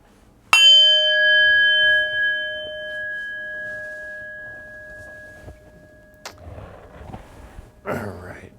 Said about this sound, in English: in just a moment I will ring the bell, ending our second round of meditation